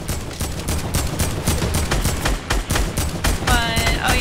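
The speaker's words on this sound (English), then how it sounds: "Just keep on shooting." Rapid continuous gunfire in the video game Fortnite: Battle Royale, dense overlapping shots and bursts throughout, loud and close, with a ringing metallic effect near the end.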